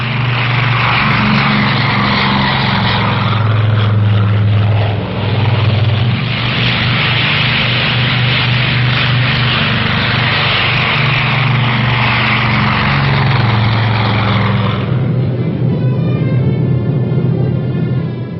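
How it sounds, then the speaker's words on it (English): Propeller aircraft, Air Force C-54 and C-47 transports, roar steadily and loudly throughout, a close, continuous drone of piston engines and airscrews with slight shifts in pitch. "made ready to be flown to the Korean battle area in Air Force C-54s and C-47s"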